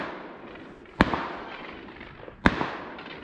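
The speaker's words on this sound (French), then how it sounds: "mon voisin de poste tire et met une balle arrière sur la chevrette" Two sharp rifle shots crack out during a wild boar and roe deer drive hunt, each a loud, sudden report about a second and a half apart, echoing briefly over a quiet outdoor background.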